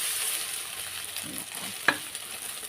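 Egg frying in a pan with a steady soft sizzle, a sharp scrape or clink as it is flipped partway through, then a few light stirring sounds.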